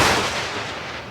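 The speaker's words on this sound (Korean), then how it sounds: "천둥과 번개를 치게 하신 거예요." Thunder sound effect in a children's Sunday worship lesson, a loud deep rumbling crash that starts at full force and slowly fades over about a second, with no voices.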